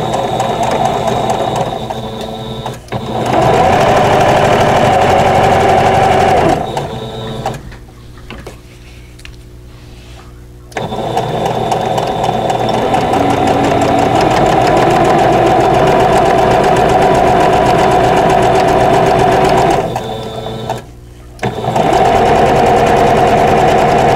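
A sewing machine stitches the last seam of a vintage Basket of Diamonds quilt block in loud, close, steady runs of whirring, pausing briefly twice before starting up again, with no talking.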